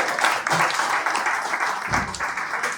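Audience applauding at the close of a panel event on digital security and artificial intelligence in Ecuador, continuous clapping in a hall at moderate volume, with a low thump partway through.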